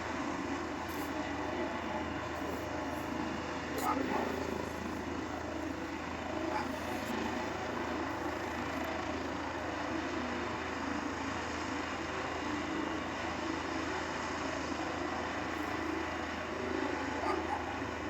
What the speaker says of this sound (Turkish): Bu Malatya'nın helikopteri mi? Abi bu Malatya'dan mı geliyor?